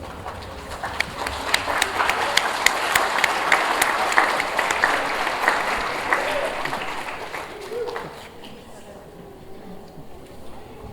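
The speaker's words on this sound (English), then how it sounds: "you give them a round of applause for all that they've done for you" An audience at a university nursing pinning ceremony claps steadily, with sharp individual claps standing out over the crowd, before the applause dies away near the end.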